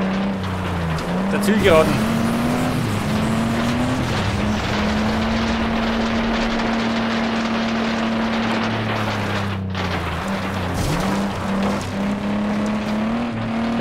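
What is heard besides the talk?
car engine at full throttle in video game Flatout 2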